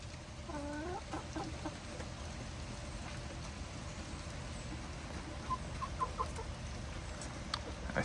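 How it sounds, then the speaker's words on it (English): Hens cluck softly and intermittently amid a steady outdoor wash of background noise, a few short calls rising near the start and again later, with no talking. "You hens need a rooster back to keep the peace"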